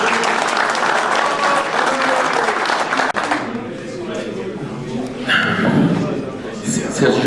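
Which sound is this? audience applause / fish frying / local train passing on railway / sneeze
audience applause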